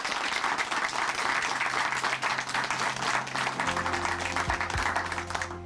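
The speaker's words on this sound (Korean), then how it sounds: "다시 한번 큰 박수" A church congregation in Chuncheon, South Korea, applauds during a testimony program, with sustained, energetic clapping from many hands throughout. A steady musical tone joins beneath the applause partway through.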